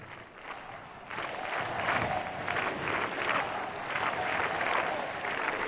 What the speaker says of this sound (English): And we hear the crowds.